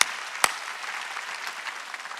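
A church congregation claps during an Easter Sunday service, a steady, moderately distant patter of applause with no speech.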